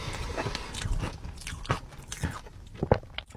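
Crisp bites into a Cédric Grolet vanilla flower pastry, several sharp crunches followed by close, wet chewing, loud and near without speech.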